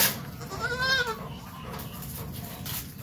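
A goat on a farm gives a single short, fairly faint bleat, followed by quiet outdoor background noise.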